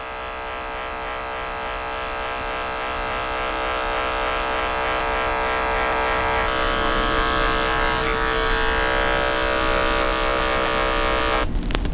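Electric hair clippers run continuously close up during a clipper-over-comb skin fade, giving a steady loud buzzing whine with faint rhythmic ticks of the blade working through hair.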